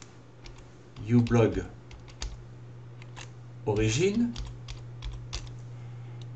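Someone types on a computer keyboard while a speaker talks in French. The keystrokes come as quick, light clicks scattered through the clip under the voice, with a steady low hum behind them.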